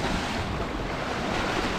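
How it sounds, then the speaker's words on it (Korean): Sea waves break and splash against rocks along a seaside trail in Namhae, a loud continuous wash of surf with wind noise on the microphone and no speech. "바위에 물이 부서지는 거 보세요."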